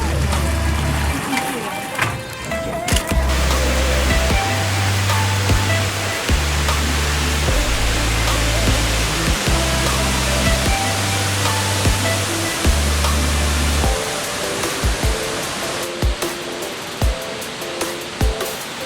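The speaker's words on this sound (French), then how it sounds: "Les chutes Victoria sont l'une des 7 merveilles naturelles du monde." Victoria Falls roars as a continuous, dense wash of falling water through the whole stretch. It sits under a talking voice and a low, steady backing sound.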